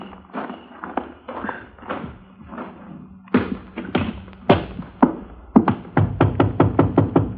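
Several groups of firm knocks on a wooden door sound close and clear in a radio drama, starting as looser thumps and ending in a quick, evenly spaced run of raps.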